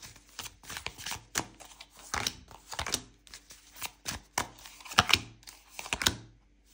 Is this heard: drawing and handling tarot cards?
yes